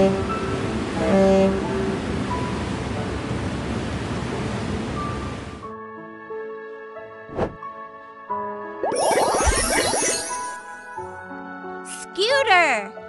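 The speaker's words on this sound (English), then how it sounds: "Ship!" A ship sound effect from a baby games app on transport words: a steady, washing rush like surf that runs for several seconds and then cuts off, followed by scattered short electronic tones and chirps.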